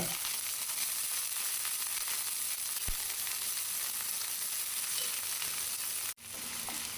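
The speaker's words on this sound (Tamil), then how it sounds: "வெங்காயத்தை நல்லா வதக்கிக்கோங்க" Finely chopped large onions fry in oil in a pan for mutton pepper fry, a loud, continuous close sizzle with a single stir knock and a brief break near the end.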